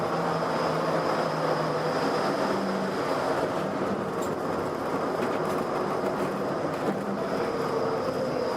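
The Disneyland monorail glides toward Downtown Disney Station, a steady interior rumble and whir of the moving train with a faint high whine, continuous and even throughout, with no talking.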